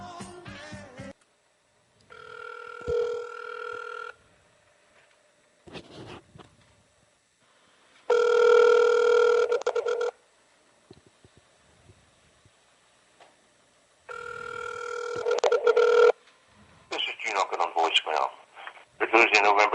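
Outgoing telephone call ringing through a phone line: repeated long ringback tones separated by silences, with bursts of speech-like line audio between rings, moderately loud and close.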